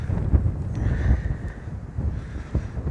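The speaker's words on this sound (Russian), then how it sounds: "По-моему, вчерашний ветер еще маленький по сравнению с сегодняшним." A strong, steady wind on a Black Sea beach at Anapa during a storm, blowing as a loud, constant rumbling roar with gusty thumps against the microphone and no voices.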